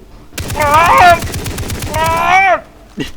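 Rapid gunfire from a mounted gun turret in the video game Far Cry 3, sounding as dense bursts mixed under loud, excited voices talking over it.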